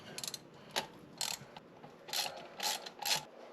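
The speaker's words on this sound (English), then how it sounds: "All right, so I'm gonna take the carburetor off." A ratchet clicking while removing the carburetor from a Jeep Wagoneer, with several short close bursts of rapid metallic clicks separated by brief pauses.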